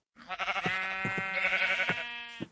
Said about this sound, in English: More sheep. Must be near a sheep spawner or something,